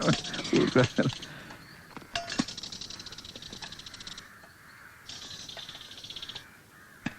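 A bird, likely a crow, caws repeatedly in loud harsh bursts, some rapid and clustered, others spaced apart, with voices speaking nearby.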